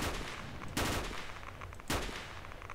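Two bursts of gunfire in the video game S.T.A.L.K.E.R. Shadow of Chernobyl, each a sharp crack with a short rumbling tail, about a second apart over low background game ambience.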